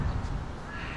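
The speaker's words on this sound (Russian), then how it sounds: "Птички поют." On a street in Seoul, crows caw against a steady wash of background noise, the calls moderately loud and fairly close, with no one talking.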